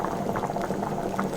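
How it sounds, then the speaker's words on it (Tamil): Kuzhambu with ground coconut paste and roasted fenugreek powder bubbles at a steady boil in a pot, a close, continuous simmering burble with no voices. "எல்லாத்தையும் நல்லா கலந்து விட்டுட்டு ஒரு 2 நிமிஷம் கொதிக்க விட்டுக்கலாம்"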